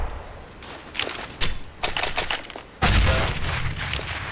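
A grenade explodes in Counter-Strike: Global Offensive, a sudden loud, deep blast that follows a run of sharp cracks and sharp clatter and lingers as rumbling noise.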